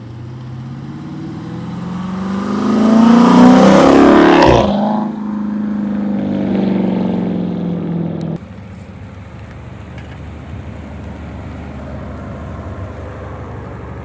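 A 2018 Dodge Charger Scat Pack 392 with a mid-muffler delete exhaust revs hard, then drops back to a lower rumble and settles into a steady idle, all loud and close.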